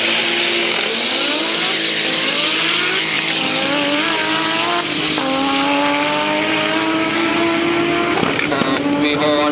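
Drag racing car making a run at Kjula Dragway in the Street class, its engine roaring loud and steady as it revs up and pulls through the gears, with a commentator's voice running over it.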